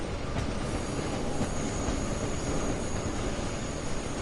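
A CSX GP40-2 train in Train Sim World 2 departing and rolling out over the points, a loud, continuous rumble of wheels with a thin high squeal running steadily throughout, no talking.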